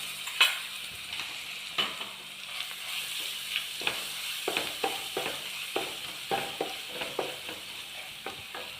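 Oil sizzling steadily in a pan as ginger and garlic fry, with frequent crackles and spatula taps throughout, close up and without speech.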